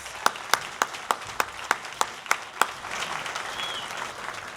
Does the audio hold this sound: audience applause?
yes